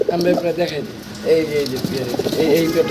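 Fancy pigeons coo close by in soft, repeated throaty bursts of rolling, wavering calls with brief pauses between them.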